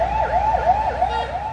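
An ambulance siren wails in a repeating rising-and-falling pattern, loud and clear over faint traffic, with no voices over it.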